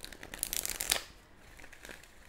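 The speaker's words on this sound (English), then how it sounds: "One more shuffle and we shall be ready." A deck of tarot cards riffles and shuffles close by in a soft, rapid flutter for about a second, then settles into quieter handling, with no voices.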